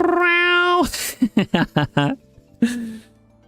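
Several cats meow in a run of short, distinct calls, loud and close, with a longer wavering meow at the start and another near the end. A cat owner is on hand with a ball of yarn.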